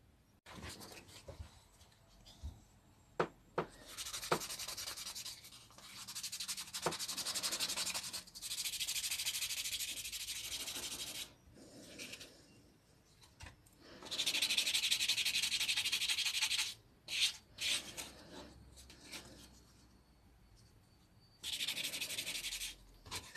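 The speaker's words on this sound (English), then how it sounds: "So I'll continue sanding this down." Hand sanding of a multicoloured resin teardrop pendant, repeated scratchy rubbing strokes in bursts separated by short pauses, close and fairly quiet.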